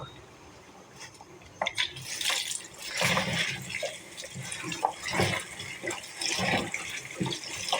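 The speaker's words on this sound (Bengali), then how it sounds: "আগে ভালোভাবে ধুয়ে নেব" Tender kharman leaves are washed by hand in water, giving irregular splashing and swishing that grows louder after the first couple of seconds, with occasional clinks of a pot.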